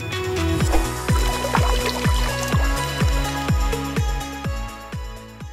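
Water pouring and splashing steadily from a 25-gallon Waterbox Peninsula reef aquarium as it is drained for a water change, with a regular series of gurgling glugs about twice per second, close and fairly loud.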